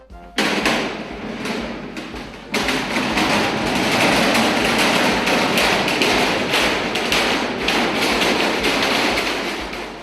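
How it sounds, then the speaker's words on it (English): A loud burst of thumping feet and shrieking from a group of children stomping and screaming, pounding irregularly and continuously after a brief pause near the start. "I want you to stomp your feet and scream and holler and make as much noise as you can."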